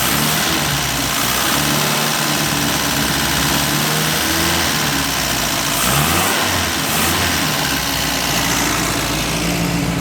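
A long-seized 1952 MG engine, running again after 34 years, roars loudly and continuously close by with rough revving surges and dips in pitch.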